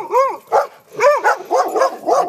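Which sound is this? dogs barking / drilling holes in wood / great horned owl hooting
dogs barking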